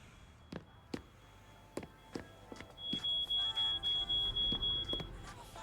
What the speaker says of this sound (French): Et il y a l'alarme encore dans la cuisine.